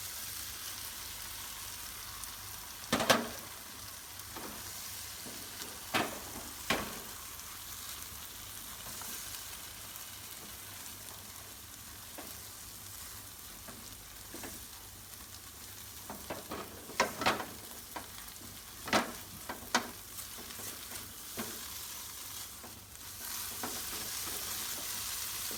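Eggs stir-fry in a pan with spice paste, candlenut and dried shrimp, giving a steady close sizzle broken by sharp scraping and stirring strokes from a utensil, with no talk.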